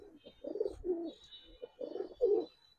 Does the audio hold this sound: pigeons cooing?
yes